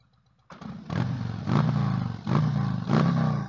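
Harley-Davidson Road King motorcycle idling, then revved several times in a row, its deep engine note rising and falling close by with a rumbling idle between throttle blips.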